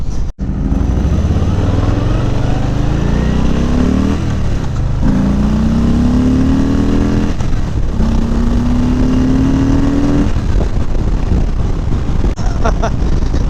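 A 2018 Harley-Davidson Softail Slim with a Milwaukee-Eight 107 engine rumbles loudly on a ride, its exhaust note rising through several gear pulls with steady wind buffeting throughout.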